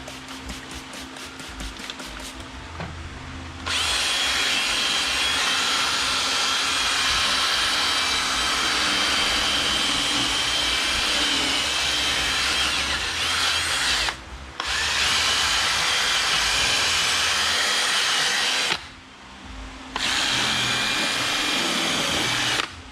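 A Ryobi power tool runs wide open in a loud, sustained high-pitched whine, cutting off briefly twice before spinning back up; a softer motor hum precedes the first start.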